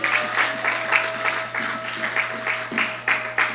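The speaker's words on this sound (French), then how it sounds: "Est-ce que nous pouvons acclamer pour cette parole?" A church congregation claps in an uneven rhythm of repeated bursts, moderately loud, with a low steady hum running underneath.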